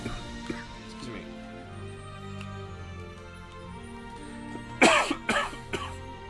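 Several close, sharp coughs in a quick burst over soft rhythm game music from Theatrhythm Final Bar Line.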